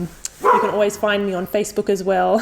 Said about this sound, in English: You can hear my little puppy barking in the background.